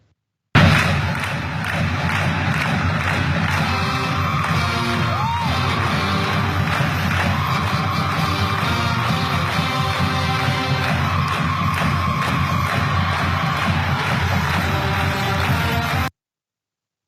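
A high school football game crowd roars and cheers continuously, dense and loud throughout, with whoops, shouts and thumps rising out of the steady wall of noise.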